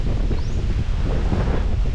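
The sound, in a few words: strong wind blowing on microphone by a lake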